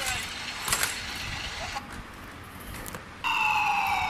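An ambulance siren wails over road traffic in an Indian street scene, a wavering tone that comes and goes under nearby talking and rises louder near the end.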